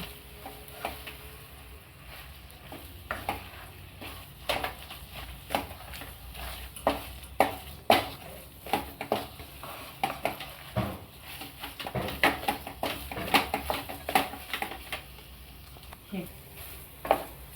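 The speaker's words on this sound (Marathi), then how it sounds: "मी अर्धी वाटी साखर टाकली आता आपण चांगलं परतून घेऊ" Paneer and sugar sautéed and stirred in a pan for paneer modak, giving a soft sizzle with repeated spoon scrapes and taps at an uneven rhythm, fairly close and steady throughout.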